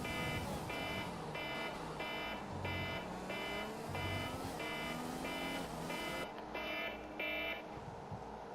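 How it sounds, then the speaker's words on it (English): Alarm sounding in regular repeated beeps, about two per second, steady and clear over a low background hum, with a brief change in tone near the end and no talking. "Forgot to turn off my alarms."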